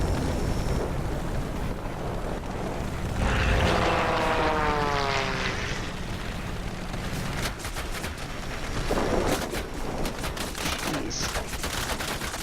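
Propeller aircraft engine in a flight combat video game, a steady droning roar with a rising and falling pitch sweep as a plane passes, under bursts of gunfire.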